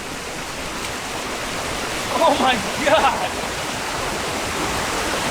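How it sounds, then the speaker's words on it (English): A waterfall near Palm Springs, California, roars as a steady, loud broadband rush, while a person speaks a brief exclamation partway through. "we made it to the waterfall"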